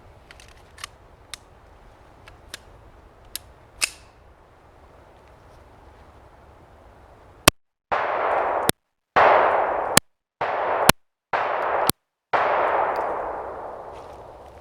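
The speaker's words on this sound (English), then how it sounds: "we're basically just going to run another 175 rounds through the gun and see how it does" Gunshots from a Jimenez Arms JA9 9mm pistol during a reliability test, several sharp, loud reports spaced irregularly, each followed by a brief ringing decay, with faint clicks and clinks before the firing begins.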